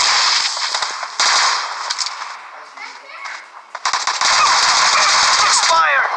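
Gunfire in the PUBG battle royale game: loud, dense bursts of automatic shots that fill most of the clip, ease off briefly in the middle, then return heavily.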